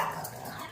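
A dog growls briefly during a lively Pahari Holi celebration, a low close rumble with a sharp yip or bark right at the end, with no talking over it.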